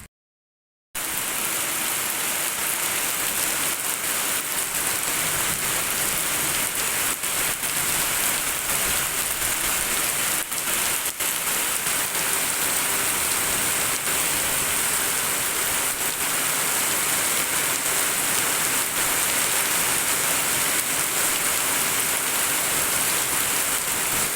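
Heavy rain pours down steadily over a village with flooded fields and roads running like channels, a dense, unbroken hiss that continues alone without any voices.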